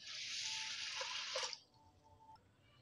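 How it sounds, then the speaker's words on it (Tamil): Rice being rinsed in water for paneer biryani, a steady wet swishing and trickling for about a second and a half, then quieter drips and faint water movement close by. "அதை இப்போ நம்ம கழுவிட்டு ஒரு 10 நிமிஷம் நம்ம ஊற வச்சு எடுத்துக்கிறலாம்."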